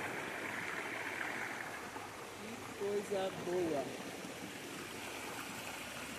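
Clear, icy river flowing over stones at Penedo in Itatiaia, a steady close rushing and babbling that runs throughout, with a person speaking briefly over it partway through.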